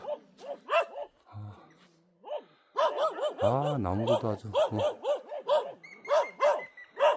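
A small dog barks repeatedly in quick yappy bursts, close by, while someone talks over and between the barks.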